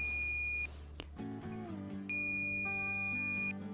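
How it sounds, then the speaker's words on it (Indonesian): An electronic buzzer alarm triggered by a tilt sensor sounds in two steady high-pitched tones, a short one then a longer one, with a low electrical hum and tonal drone between. "Akhirnya buzzer menjadi aktif."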